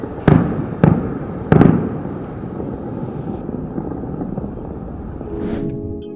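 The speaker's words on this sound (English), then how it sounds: "The 6 a.m. fireworks." Early-morning fireworks at the San Miguel de Allende festival: three sharp, loud bangs in quick succession, then a rumbling outdoor wash with wind noise and a rising whistle near the end.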